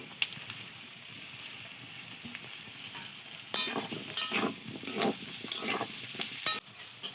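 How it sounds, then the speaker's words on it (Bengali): Potatoes and onions frying together in a pan, a steady sizzle with louder bursts of stirring and scraping partway through, close and continuous with no talking. "এবার আলু পেঁয়াজ আমি একসঙ্গে ভেজে নেব"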